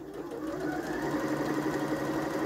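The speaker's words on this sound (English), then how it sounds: "remember to secure at the other end with a reverse stitch or a locking stitch" Domestic sewing machine stitching a seam on a toile bodice for a jumpsuit, with a steady, continuous mechanical whir and rapid needle chatter running throughout at close range, no voice.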